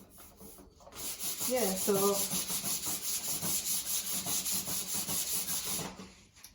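Sandpaper rubs back and forth on wooden furniture in a steady rhythm of rasping strokes, close and continuous, with a voice speaking briefly near the start.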